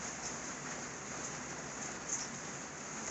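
Rain falling on a farm during straw and manure spreading work, a soft even hiss of steady rainfall, faint and distant, without voices.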